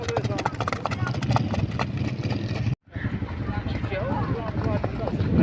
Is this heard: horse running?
yes